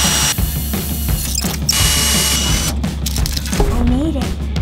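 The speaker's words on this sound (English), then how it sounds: "I'm gonna start drilling the holes" Drill boring rivet holes into the underbody of a school bus conversion, a loud continuous grinding whir running throughout with a brief rising whine near the end, and voices talking over it.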